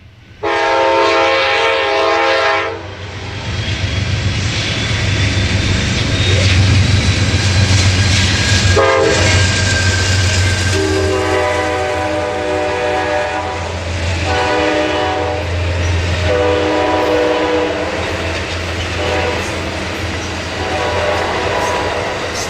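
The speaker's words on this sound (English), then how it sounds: "Shortly after 4 p.m., the Coast Starlight pulls out of Portland." An Amtrak Coast Starlight passenger train pulls out of Portland, its horn sounding in several long blasts over a steady rumble of rolling railcars, loud and close.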